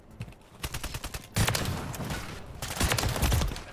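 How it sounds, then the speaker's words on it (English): Akimbo SPAZ-12 shotguns fire in Modern Warfare 3 in rapid bursts of dense gunfire, loud and continuous amid other game sounds. "Freaking SPAZ 12 Akimbo shotguns."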